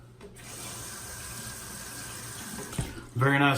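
Tap water runs steadily into a barbershop sink to wet a shaving brush, a continuous close hiss that grows louder and fuller in the last half-second.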